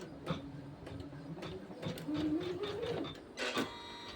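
A computerized embroidery machine stitches a single-colour design held in a hoop frame, giving a quick, rhythmic mechanical chatter with periodic louder thumps, fairly close.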